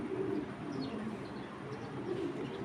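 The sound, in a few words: pigeon, a large female Mili pigeon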